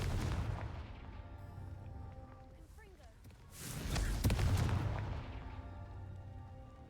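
A Confringo spell blast in Hogwarts Legacy bursts out as a booming fiery impact midway, following earlier muffled combat thuds, with a voice speaking faintly in the background.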